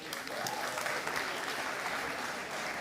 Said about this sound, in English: Please give another round of applause to Maureen.